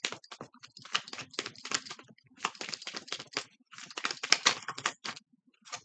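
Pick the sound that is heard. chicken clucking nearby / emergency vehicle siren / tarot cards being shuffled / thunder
tarot cards being shuffled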